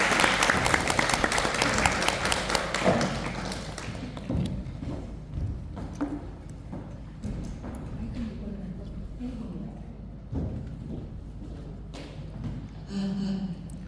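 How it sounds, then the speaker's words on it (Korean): A church audience claps loudly and densely to welcome a speaker, then the applause thins into scattered claps and fades, with a voice briefly heard near the end. "우리 강사님 나오실 때 환영하는 박수로 맞이하겠습니다."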